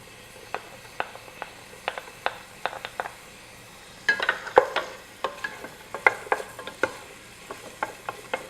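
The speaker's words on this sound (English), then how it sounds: "So after the onions, I'm going to put the garlic." Roughly chopped garlic fries with onions in a pan, a soft background sizzle under frequent sharp clicks and scrapes from a utensil stirring against the pan.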